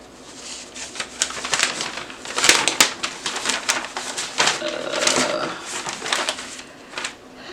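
A sewing machine stitches across fabric for a McCall's 8343 garment, running in an uneven, rattling whir with bursts of faster needle clatter at close range.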